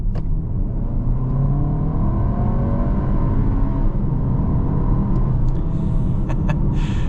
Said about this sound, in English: Very impressive acceleration from this new 2-liter turbocharged inline 4.